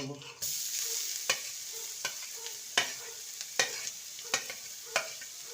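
Grated teasel gourd and potato fry in hot oil as a spatula stirs them, a steady sizzle broken by regular scraping strokes roughly every second, close and clear.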